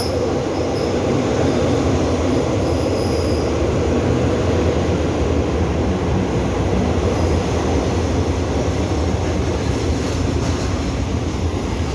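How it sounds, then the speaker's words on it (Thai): A train arriving at the elevated Khon Kaen station in Thailand rumbles steadily close by, with a continuous roar of wheels on rails and faint high squeals over the heavy low noise. "รถไฟมาแล้วนะครับ"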